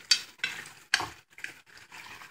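Meat pâté is stirred in a pan with a utensil, giving a few irregular scraping strokes with faint sizzling in between, close and fairly quiet.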